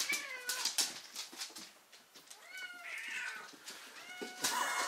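Several cats meow close by indoors, a quick run of overlapping, rising and falling cries with a few drawn-out wails, and no talking.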